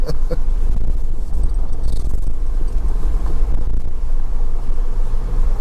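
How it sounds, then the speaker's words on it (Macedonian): A car driving over a rough, unpaved stretch of road between Skopje and Veles, with a loud, steady low rumble of engine and tyres and occasional knocks and jolts throughout. "Тоа е веќе терен. Ова е веќе теренско возење."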